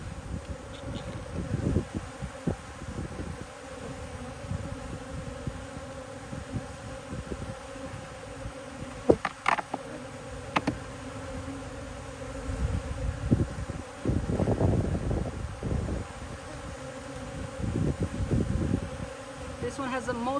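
Honeybees buzz steadily around a nuc hive during an outdoor beekeeping session. A constant droning hum persists throughout, with louder swells as individual bees pass close, and occasional rustling and handling noises.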